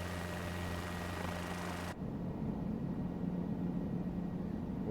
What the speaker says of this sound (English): so we can get a great quality helicopter sound